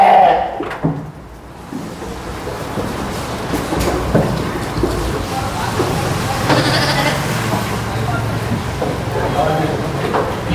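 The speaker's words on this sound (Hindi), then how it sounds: "इसके साथ साथ हैदराबादी बकरियाँ भी यहाँ पर हैं।" Hyderabadi goats bleating at a goat market, a few short cries scattered over crowded market chatter and people talking nearby.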